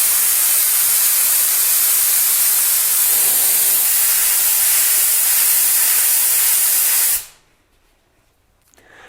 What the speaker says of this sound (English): you will spray only color on the black spots of the bottle cage